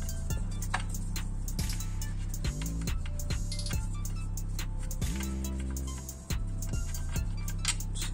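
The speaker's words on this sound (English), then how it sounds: "Now I'm just unbolting these few nuts. I already loosened them up. Can use a 10 millimeter spanner." A 10 mm flower-type ring spanner unbolts nuts during clutch removal, making a run of small metallic ticks and clicks at a fairly regular pace over a steady low background hum, with no talking.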